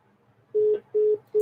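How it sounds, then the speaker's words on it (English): A telephone line gives repeated steady beeps after a call cuts out: three evenly spaced tones, each lasting about a fifth of a second, clear and close. "Oh no, the phone cut out."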